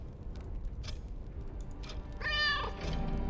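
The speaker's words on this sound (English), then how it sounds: "You do not see the cat Black Milk, but you hear a faraway yowl." A cat yowls in an interactive fiction game, a single drawn-out meow heard at a distance over low background murmur, preceded by a few faint soft sounds.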